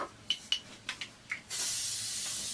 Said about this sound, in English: I'm using the medium hold hairspray from TONI&GUY.